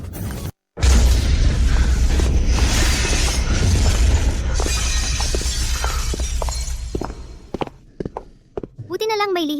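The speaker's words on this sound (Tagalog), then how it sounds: "Tunog ng pagsabog?" A heavy blast erupts with a deep rumbling boom and shattering debris, followed by scattered crashes and clatter fading out, with a short tonal whine near the end.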